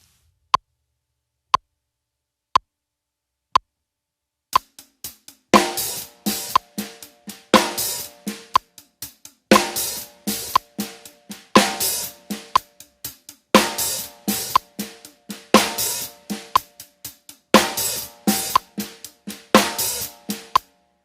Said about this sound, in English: we'll basically continue doing the hi-hat, and we're going to add in the snare